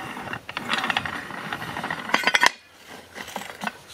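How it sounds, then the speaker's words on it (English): Hand-winding the handle on the gearbox of a Hills Hoist rotary clothesline produces a rapid run of metallic ratcheting clicks and clinks, busiest in the middle of the clip and stopping abruptly, followed by quieter scattered mechanical ticks. "when we wind the handle here, you can see the center thread there"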